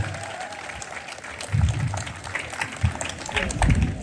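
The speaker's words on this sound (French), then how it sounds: "On l'applaudit très très fort, s'il vous plaît." Audience applause at a public gathering with a prefect, sustained clapping over a crowd murmur, with heavier low thumps and swells as the clapping grows stronger.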